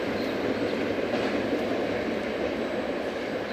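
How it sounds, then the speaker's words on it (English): Freight train heading to Hobart rolling past near Fullerton, a loud, steady rumble and roar of wheels on rail, continuous throughout with no voices. "Decent train heading to Hobart."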